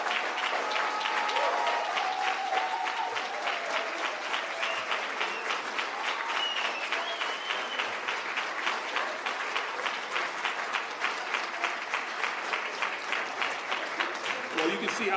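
Sustained audience applause at an athletic hall of fame induction ceremony honoring veterans, steady dense clapping from a large crowd for about fifteen seconds, with faint voices mixed in near the start.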